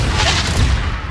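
A Confringo explosion spell cast in Hogwarts Legacy: a loud, dense blast with rumbling low booms that fill the short moment.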